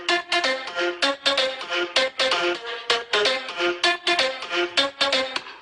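Chopped synth voice from the Nexus PL Voice Plug 1 preset processed with Camel Fat, bright staccato vocal stabs in a rhythmic, bouncy pattern, loud and upfront with no talking.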